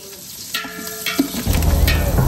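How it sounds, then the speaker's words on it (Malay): Shallots, garlic, ginger and curry leaves sautéing in hot oil, a loud steady sizzle that swells as the ingredients go in, with a few clinks of a utensil stirring the pan. "kita tumis dulu bawang merah, bawang putih halia yang kita cincang dan juga daun kari"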